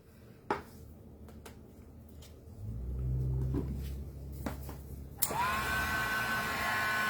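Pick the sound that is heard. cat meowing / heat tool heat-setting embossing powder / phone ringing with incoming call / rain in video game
heat tool heat-setting embossing powder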